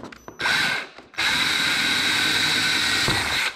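A power drill whines at steady high speed while boring into the inner door panel of a Corvette C4, close and loud, with a short burst, a brief stop, then a long continuous run.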